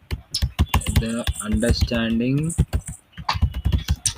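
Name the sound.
typing on a computer keyboard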